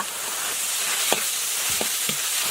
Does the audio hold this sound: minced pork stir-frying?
yes